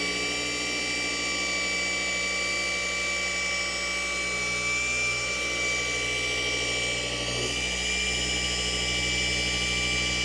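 A car paint polisher whines steadily at correction speed, set between its third and fourth settings, a constant high motor drone with a few faint dips as it is worked across paint under light hand pressure.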